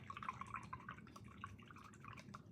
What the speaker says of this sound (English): now we're going to be rinsing the brush out